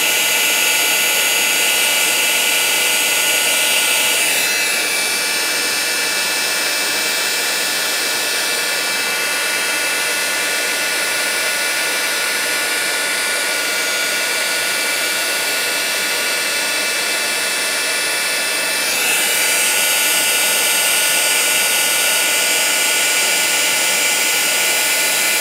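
An embossing heat tool blows steadily and loudly for the whole stretch, a constant high whooshing hum used while heat-embossing rubber-stamped powder, with slight shifts in tone as it moves.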